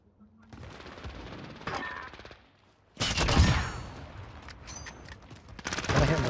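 Bursts of rapid automatic gunfire in a video game, a quieter stretch of shots followed by louder, denser volleys with sharp reports, with voices in the background.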